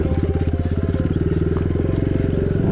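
A motorcycle throttle revs on a forest trail, a close, loud, steady pulsing engine note that rises slightly toward the end, with no talk over it.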